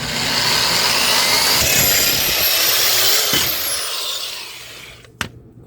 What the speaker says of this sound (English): I'm going to drill this one first